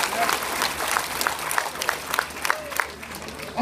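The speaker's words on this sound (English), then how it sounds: "give him a hand clap of" A church congregation claps in praise during a sermon, with brisk, fairly even handclaps over a murmuring crowd, sustained and moderately loud for a few seconds.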